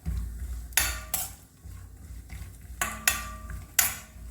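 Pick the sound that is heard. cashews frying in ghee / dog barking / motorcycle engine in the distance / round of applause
cashews frying in ghee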